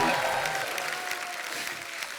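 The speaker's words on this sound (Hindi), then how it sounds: "जोरदार तालियां हो जाए बाबा" Television studio audience applauding on a Hindi talk show, continuous dense clapping that stays fairly loud with a slight fade near the end.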